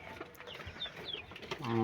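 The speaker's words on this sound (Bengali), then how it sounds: "এটা হচ্ছে ভাই ফাউমি মুরগি" Fayoumi chickens on a small farm cluck and peep in short scattered calls, fairly close, with a voice rising up at the end.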